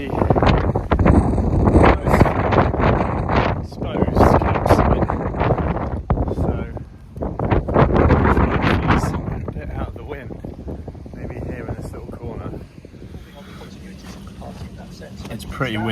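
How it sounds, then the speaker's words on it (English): Strong wind on an exposed hilltop campsite in Devon buffets the microphone in heavy, rumbling gusts, with a person talking through it. "it's pretty windy."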